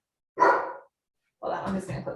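An excited dog gives two short barking bursts, close and moderately loud, separated by a brief silence.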